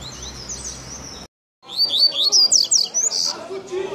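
A caged coleiro (double-collared seedeater) sings a rapid run of loud, high chirps and trills up close outdoors near a ball game, after a stretch of quieter sound with a voice and a brief silence.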